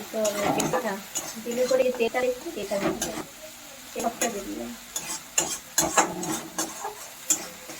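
Spice masala is stir-fried in a pan for a jackfruit and prawn curry, with sizzling broken by repeated spatula scrapes and knocks against the pan. Sounds are close and irregular, with a voice heard in the background.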